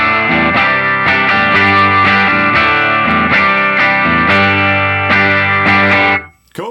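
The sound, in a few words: electric guitar through amp with reverb, delay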